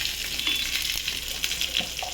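Cumin seeds frying in hot oil in a wok, a steady close crackling sizzle with small pops running throughout, no voices.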